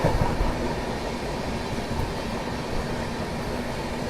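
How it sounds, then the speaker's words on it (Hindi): The Prayagraj Express rushes past at speed on an Indian railway line, a loud, continuous roar of wheels and carriages that stays dense from start to finish, with no speech. "नहीं, प्रयागराज एक्सप्रेस है दोस्तों।"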